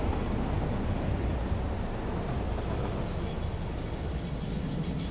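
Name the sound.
train running in the video game Satisfactory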